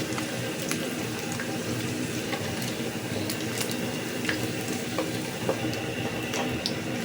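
Chicken pieces frying in hot soybean oil in a home kitchen: a steady, close sizzle with scattered sharp crackles and pops throughout, no voices.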